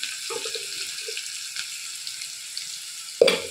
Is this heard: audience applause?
no